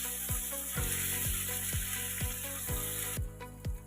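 Mutton masala fries in a pan as Kashmiri chili powder is mixed in, giving a loud, dense sizzle with regular scraping strokes about twice a second that ease off near the end, and no speech.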